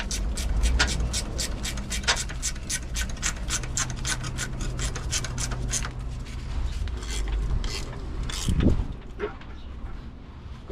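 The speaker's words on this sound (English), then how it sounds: "Ratchet spanner that bad boy up" Ratchet spanner turning a bolt on a Toyota iQ subframe during a clutch replacement outdoors in the rain, giving a run of rapid, close clicking strokes with scraping and rubbing and a brief clunk near the end.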